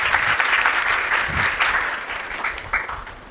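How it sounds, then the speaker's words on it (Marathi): An audience at a talk claps together for someone speaker, dense, sustained applause filling the space at close, loud level throughout, with no voices over it. "एकदा जोरदार टाळ्या झाल्या पाहिजेत मेघा मॅडमसाठी"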